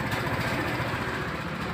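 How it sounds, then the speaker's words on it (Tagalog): A Honda Click 150 scooter with a faulty ignition key switch idles steadily at close range, its engine a continuous low, even hum. "Ngayon po mga bossing, umaandar na siya. Ayan, buhay ang makina."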